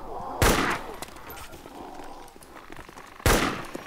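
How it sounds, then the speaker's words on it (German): Two loud, sharp Enfield rifle shots ring out in the DayZ video game about three seconds apart, each with a lingering echoing tail over faint background game sounds. "Die Enfield ist halt so fucking laut."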